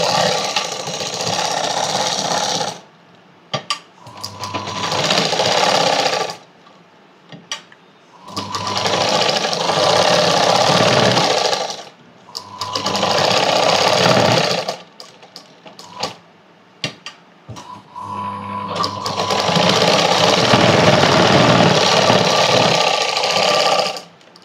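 Loud electric sewing machine stitching a lining onto blouse fabric, running in several long bursts of a few seconds each, with short quiet pauses between them and no talk.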